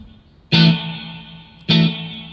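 An electric guitar plays through an amp with reverb switched on. Two separate chords are struck about a second apart, and each rings out into a long, washy decaying tail. No one speaks.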